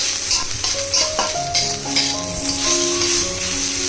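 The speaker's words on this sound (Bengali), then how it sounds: "ওতেই আমি অ্যাড করে দিচ্ছি দুটো শুকনো লঙ্কা" Dried Kashmiri chillies drop into hot oil already holding cumin and panch phoron, giving a steady close sizzle with light stirring scrapes throughout, no voices.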